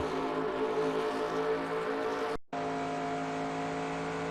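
A NASCAR stock car at full throttle around Texas Motor Speedway in NASCAR Racing 2002 Season, a loud steady engine drone with layered harmonics that cuts out for a split second before resuming.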